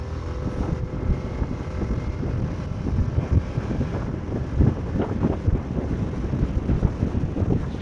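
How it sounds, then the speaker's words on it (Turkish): A Suzuki Burgman Street 125EX scooter picks up speed while being ridden, its engine drone largely buried under heavy, steady wind buffeting on the microphone. "Şimdi nispeten biraz gaz açacağım."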